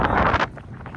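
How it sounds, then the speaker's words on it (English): Strong wind buffets the microphone outdoors during a fishing trip, a loud rushing roar that drops away after half a second, then returns in softer gusts. "it's pretty windy now"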